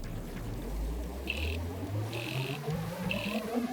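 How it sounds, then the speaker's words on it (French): Orca sonar sounds underwater in a river, with three short bursts of high buzzing clicks at irregular gaps over a rumbling, murky background and no voices. "Écoutez, attendre le moment propice pour mettre en route son sonar."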